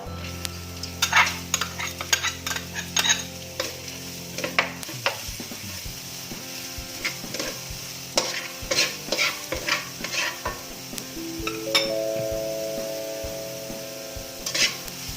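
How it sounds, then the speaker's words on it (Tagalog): Garlic and carrot are sautéed in a pan, with a spoon or spatula stirring and scraping over a low sizzle, irregular clinks and taps throughout and a steady hum joining toward the end. "Add the garlic. Let's saute and wait until it golden brown. Now add the carrot."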